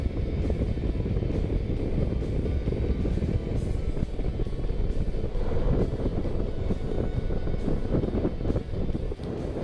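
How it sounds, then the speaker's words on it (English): Gusty crosswind buffets the microphone at a sunset airstrip as a J-3 Cub hybrid comes in to land, a steady loud low rumble with surging gusts throughout and no voices. "the gusty crosswind from the right is playing with it"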